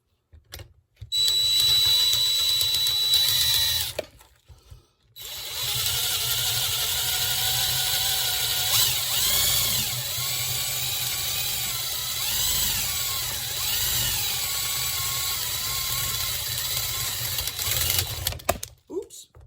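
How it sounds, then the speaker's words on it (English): A power drill with a larger bit bores into a motorcycle handlebar in two loud, close bursts of high grinding whine separated by a short pause, the pitch wavering as the bit bites into the metal. "with my larger drill bit installed, we're ready to go and clean this up"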